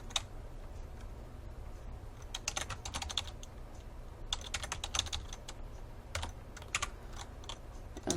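Typing on a computer keyboard in a word-processing session, with quick irregular bursts of key clicks and short pauses, fairly close and moderately quiet over low steady room hum.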